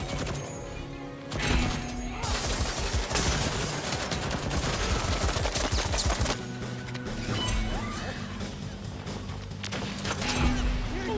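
A hacked turret fires in a video game: sustained loud bursts of rapid gunfire with crashing impacts, continuing for several seconds at a steady, intense level.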